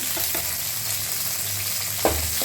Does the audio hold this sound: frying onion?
yes